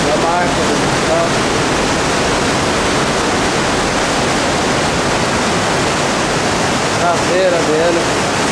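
Water churns in the wake behind the stern of the Golden Princess cruise ship, a loud, steady broadband rush with no pauses, like a waterfall.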